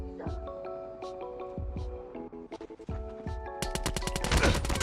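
Gunfire in the mobile shooter Call of Duty Mobile: scattered single shots and short bursts give way to a rapid, loud automatic burst at the end, with a voice heard over the action.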